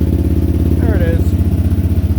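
Warrior engine idling after a cold start on choke, a loud close steady pulsing putter throughout, with a brief voice over it.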